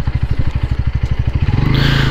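A Bajaj N160 motorcycle engine thumps at idle in an even, rapid pulse close by, then the beat quickens into a smoother, higher drone as the throttle is blipped.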